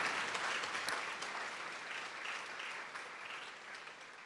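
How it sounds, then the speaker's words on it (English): A crowd applauds at an awards ceremony for clinical interns and cooperating teachers: dense, steady clapping throughout, somewhat distant and fairly quiet, with no speech. "Can we give one more round of applause again for all of these clinical interns?"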